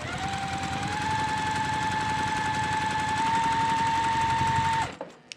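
A sewing machine runs steadily while stitching a quilt block seam a quarter inch from the edge, giving a fast, even mechanical whir with rapid needle pulses for about five seconds before stopping, followed by a small click.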